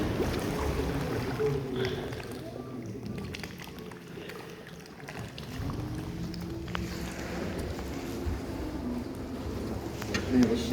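A canal tour boat glides through the Dudley caverns, with a low continuous engine drone and water wash under people talking, echoing in the enclosed space.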